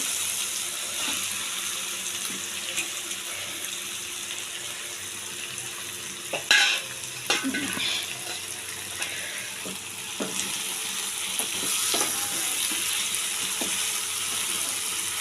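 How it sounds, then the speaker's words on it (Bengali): Fish sizzling and frying in a spice masala for Bengali shankar mach kosha, with steady hissing throughout and scraping, clattering stirring strokes in the middle. "মাছ দিয়ে আরেকটু ভেজে আমি"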